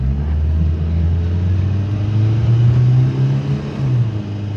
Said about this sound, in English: Come to a stop almost. Accelerate again.